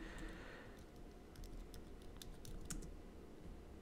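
Soft clicking of a computer keyboard as text is typed in a desktop application, a short burst of faint, close keystrokes over low background hum.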